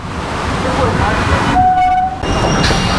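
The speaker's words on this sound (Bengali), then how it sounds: "পাশে ট্রেন যাচ্ছে" A Kolkata Circular Railway train rumbles past close by at Babughat, loud and continuous, with a brief horn tone sounding near the middle.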